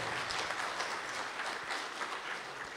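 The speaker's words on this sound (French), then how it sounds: "je crois qu'on peut applaudir nos intervenants pour leurs apports" Steady applause from a round-table audience at a field-robotics agriculture event, a continuous moderately loud patter of many hands lasting the whole stretch with no talk over it.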